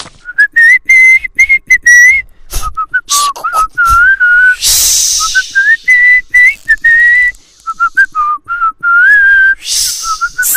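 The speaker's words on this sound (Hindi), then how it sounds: "हाँ तो महाराज सीटी बजाओ सीटी" A person whistles loudly and close up, trying to charm a snake in a comedy classroom skit, with a wavering, improvised tune of short, choppy phrases and breathy breaks.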